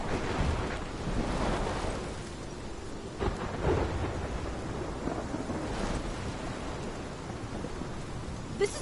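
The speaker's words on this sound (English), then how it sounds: "This is my storm." A thunderstorm in the video game Life is Strange, with rumbling thunder and steady rain hiss and wind, heavy and continuous, with a few sharper cracks.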